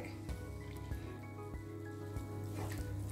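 Thick coconut milk poured into a Kerala-style sardine masala, giving a quiet, soft liquid splashing and dripping with a few faint clicks from the pan over about three seconds.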